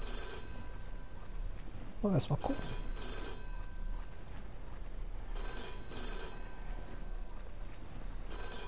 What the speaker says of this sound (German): Bevor ich jetzt ans Telefon gehe